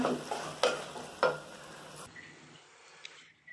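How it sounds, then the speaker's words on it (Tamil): Carrots and mixed vegetables sautéed in a pan for vegetable biryani, with soft sizzling and a few sharp spoon-against-pan scrapes, close up, the sizzle fading quieter after two seconds. "கேரட் சேர்த்து நல்லா வதக்கிடுங்க."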